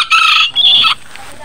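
A chicken on Mount Banahaw gives a loud, close call in two quick bursts, then fades into quiet background within about a second and a half.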